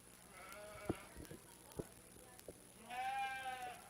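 Sheep and goats at a Page County Fair meat goat and sheep show arena, one clear bleat near the end after scattered thumps and knocks, fairly faint with some background murmur.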